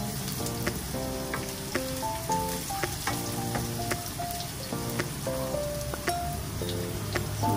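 Ginataang suso, snails cooking in a pan with onion, stirred over lowered heat: a continuous sizzle with frequent light clicks and clatters of shells knocking as they are moved about.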